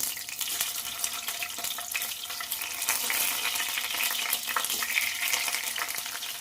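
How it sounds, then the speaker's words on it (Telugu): Sliced bitter gourds sputtering in hot oil, their moisture setting off a dense, steady crackle and spit that stays loud and continuous throughout. "నూనెలో వాటర్ పడంగానే చిటికెట్లు ఆడుతూనే ఉంటుంది"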